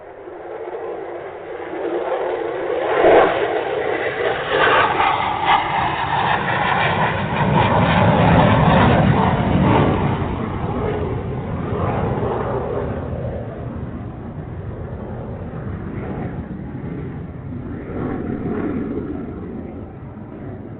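A large airplane rumbles through takeoff, a broad low roar that swells to a peak midway and then settles into a steady drone for the rest of the run.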